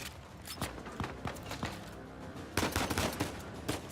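Gunfire crackles in a third-person shootout in Uncharted 4, with scattered single shots and short bursts at varying distances, clustering into a louder exchange near the end.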